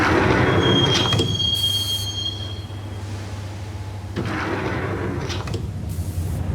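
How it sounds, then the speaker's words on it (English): A subway train rides along in the video game Max Payne. A loud, continuous rumble of wheels on rails carries a thin metallic squeal and rhythmic clacking bursts, with no voices over it. "the train doors had already shut behind me, and I was in for the ride"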